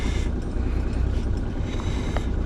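A sailboat's auxiliary engine runs while motor sailing with no wind, a steady low drone at moderate distance, with faint water and wind noise over it.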